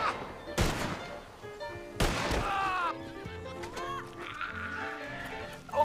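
Two sharp gunshots crack out about a second and a half apart in a Wild West roleplay video game, each loud and abrupt, with voices chattering between them.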